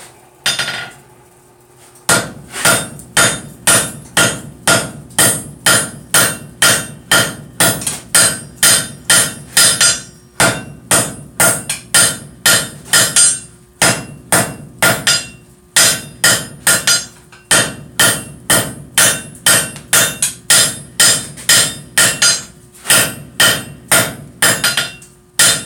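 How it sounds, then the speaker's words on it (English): Steady, loud hammer blows ring out on white-hot metal at a forge anvil, struck in fast rhythmic bursts with brief pauses between runs, no talking over them. "I'm going to hammer these out here real quick"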